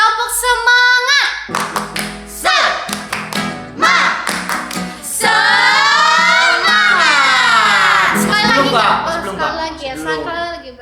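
Children at a Sunday school service do a rhythmic spirit clap (tepuk semangat), sharp patterned hand claps mixed with loud sung or chanted voices, close and energetic throughout.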